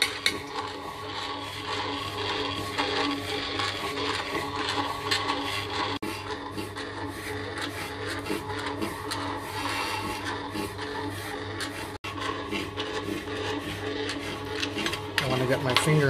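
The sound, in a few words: Princess breadmaker paddle mixing bread dough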